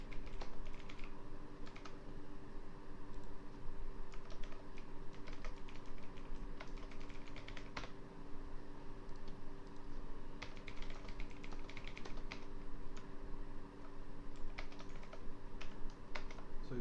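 Computer keys clatter in steady, quick clusters of soft taps and clicks over a low constant hum, typing continuing in bursts with brief pauses.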